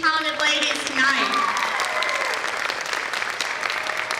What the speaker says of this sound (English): One last round of applause for all these amazing, talented ladies tonight